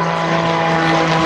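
Gary Ward's MX2 aerobatic airplane at the Summerside Air Show, its hot engine and propeller droning loud and steady with a strong tonal hum, close and unbroken.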